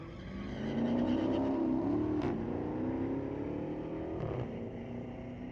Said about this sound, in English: That 21 Challenger, nice sound and ride, went 1352 at 106.